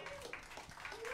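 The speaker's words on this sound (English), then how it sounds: "Give Giggles a round of applause, and Bruce." Brief applause rises from an audience at a tribute show, with a short spatter of clapping and a voice over it.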